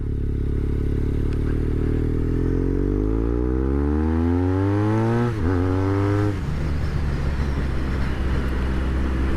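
A BMW R1200 R motorcycle revs up under throttle with a climbing engine note, breaks briefly at a gear shift midway, then settles into a steady, lower drone with wind and road rumble.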